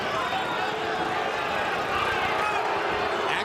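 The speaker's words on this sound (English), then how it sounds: "Crowd booing, no doubt asking Sanders to trade a little more" Crowd noise fills a boxing arena during Vitali Klitschko versus Corrie Sanders, a steady dense roar of disapproving spectators without letup, heard alone with no talk over it.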